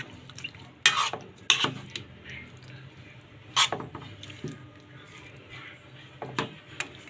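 Chicken adobo with potatoes being stirred in a pot, a spoon scraping and clinking against the metal in several bursts with a soft bubbling simmer between.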